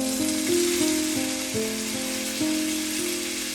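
Flattened potatoes frying in a pan over lowered heat, giving a steady close sizzle with occasional small pops and crackles, alone throughout with no talk.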